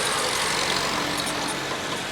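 The engine of a 1917 Halford vehicle at a military air show gives a steady, broadband running rumble. It sounds moderately close and continuous, with outdoor crowd noise blended in and no speech.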